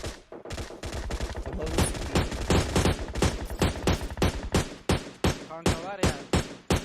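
Rapid automatic gunfire rattles in PUBG Mobile, dense loud bursts that later break into a steady series of separate shots, with a voice talking over parts of it.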